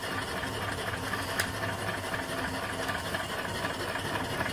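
A 3 or 4 horsepower steam engine bolted to the side of an 18 inch boiler runs steadily, a continuous close mechanical hum and chug with a faint tick partway through.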